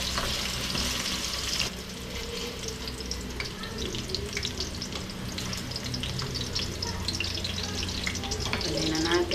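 Potatoes frying in a pan, a steady close sizzle and crackle with occasional stirring scrapes, with faint talk in the background.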